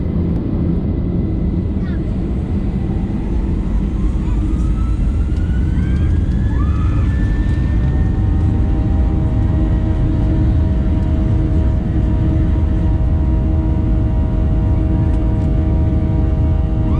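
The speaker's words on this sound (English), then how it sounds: "We powered up and made a pretty long takeoff into the grey skies above Joburg." A British Airways Boeing 737-800 jet powers up for a long takeoff from Johannesburg under grey skies, its engines roaring loudly and steadily from inside the cabin while a rising whine climbs in pitch.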